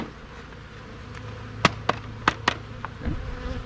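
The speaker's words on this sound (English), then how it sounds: "Get those bees off of there" A low steady hum of many honey bees buzzing in a bee yard, with several sharp knocks and clacks close by over the drone.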